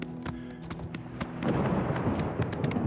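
Rapid clip-clop of horse hooves galloping in a video game, steady and close, picking up into a louder rushing run partway through.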